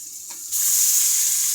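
Beef tripe fries in a pan with turmeric and chili powder. After a brief quiet moment, a sudden loud sizzle bursts up and keeps hissing steadily.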